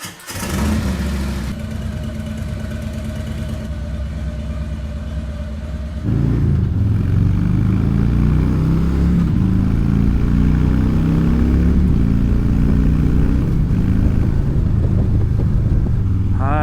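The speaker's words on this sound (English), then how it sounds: "Let's hop on the bike, get to the range" A motorcycle engine starts and idles, then rises into a steady, loud running drone as the bike rides off toward a desert range, continuous engine tone for the whole stretch without speech.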